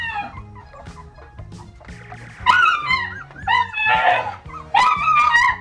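A mother dog barks and yips repeatedly nearby, mixed with whimpering and high squeals from puppies, the barks growing louder toward the end.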